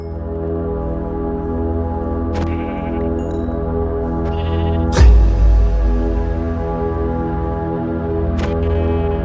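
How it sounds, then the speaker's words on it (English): Sheep bleating in the video game Minecraft, a few short bleats spaced over several seconds above a steady bed of game music, with one louder burst midway. "I found sheep, got lots of wool and mutton."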